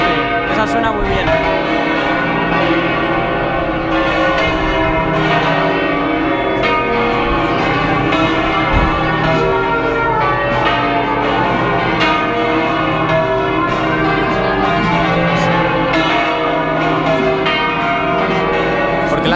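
Full peal of church bells swinging at Almudena Cathedral in Madrid during the Almudena feast day, a loud, dense, continuous clang of many overlapping bells heard close by.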